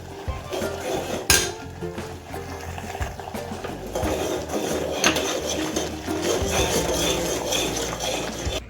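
A spoon stirs fasting kheer in a metal pot, clinking and scraping against the sides in an irregular rhythm, up close with a sharp clank near the start.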